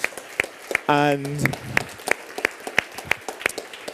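Scattered audience clapping closes a packaging-industry award ceremony for three winners. Sparse, separate claps sound at a loose, uneven pace across the room, and a short spoken word cuts in early on.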